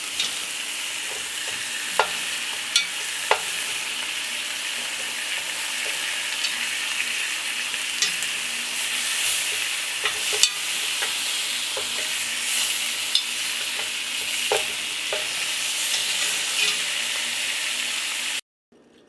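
Beef neck bones brown in a hot pot with a steady, even sizzle and frying hiss, broken by occasional sharp pops and spits, close and continuous with no talking.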